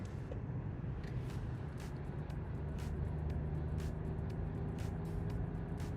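A small three-cylinder Buick Envista engine drones steadily from inside the cabin while climbing a steep mountain incline, a constant low hum and road rumble with no break.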